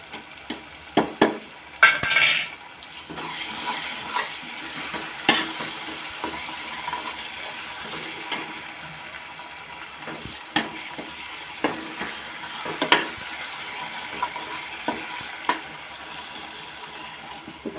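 Gorakala fish pieces frying for avakaya pickle, stirred in a pan: a steady crackling sizzle runs throughout, with a sharp splattering burst early on and scattered clinks and scrapes of the stirring utensil against the pan.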